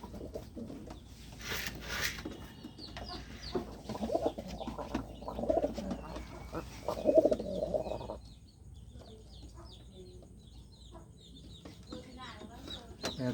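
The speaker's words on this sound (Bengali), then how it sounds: "আমার লফটের সবচেয়ে ভালো কবুতর এটা," Pigeons coo in a loft among low fluttering and clucking calls, with someone talking over the birds for much of the time before quieter chirps take over.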